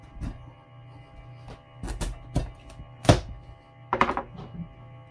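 A knife cuts through a hard acorn squash, giving about five separate dull thunks against the board at uneven intervals with quiet pauses between.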